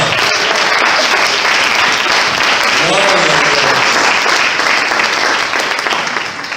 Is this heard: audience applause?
yes